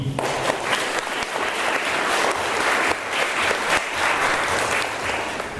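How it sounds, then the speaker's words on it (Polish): Audience applause at a primary school's National Education Day ceremony, a steady sustained wash of many hands clapping throughout, fairly loud and continuous with no pauses. "Bardzo serdecznie proszę o oklaski"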